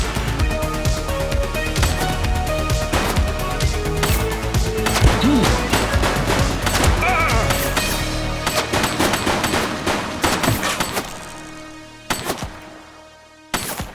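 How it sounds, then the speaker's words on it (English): Heavy gunfire in a police video game, The Precinct, sounds as a dense, loud, continuous stream of rapid shots that runs for about ten seconds, then thins out to a few isolated cracks near the end. "She's shooting!"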